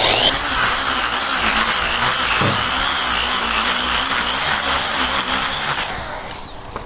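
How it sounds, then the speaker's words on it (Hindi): A power drill whirs loudly and steadily while boring a hinge hole in a plywood double door, its motor whine wavering under load before winding down at the end. "तो मैं इसमें होल कर लेता हूँ।"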